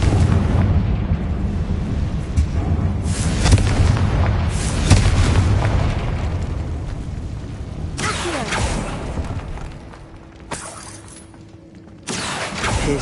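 Confringo fire spell in Hogwarts Legacy blasts with heavy booming explosions and shattering crashes, a loud rumbling barrage that swells, dips, then bursts again near the end.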